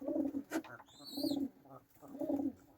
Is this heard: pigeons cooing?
yes